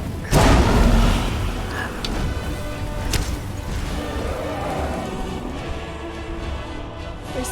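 Thunder sounds during a storm in the video game Skyrim: a loud boom at the start gives way to a long, rumbling roll, with a few fainter cracks and ambient noise continuing underneath.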